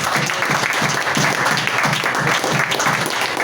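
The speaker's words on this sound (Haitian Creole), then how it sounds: "Maintenant, on applaudit." A church congregation bursts into sustained applause, dense overlapping clapping filling the room steadily and loudly throughout, with no pauses.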